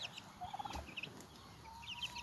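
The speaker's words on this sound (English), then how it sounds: "So this is my turkey hen" Faint, brief gobbling calls in a quiet farmyard, from the direction of a turkey hen, sound in short clusters, with a chicken flock nearby.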